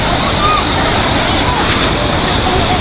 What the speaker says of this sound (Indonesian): Derasnya air sungai meluap hingga ke permukaan jalan dan permukiman warga.